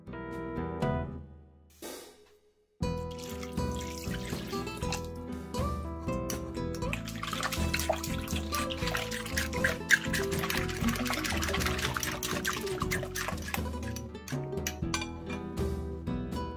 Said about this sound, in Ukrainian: додаю 210 мл води, розчиняю закваску у воді